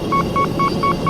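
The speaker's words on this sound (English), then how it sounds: "That sound is the solid lock tone." Solid lock tone from a flight combat video game: a rapid series of five identical short electronic beeps, evenly spaced, clear and steady over a low background hum.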